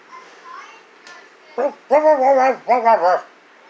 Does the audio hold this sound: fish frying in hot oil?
no